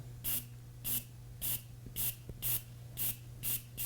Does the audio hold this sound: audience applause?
no